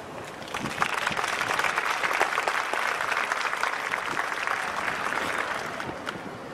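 An audience applauds steadily to welcome speaker Carl Schiller, a sustained wash of many hands clapping at an even level with no voices.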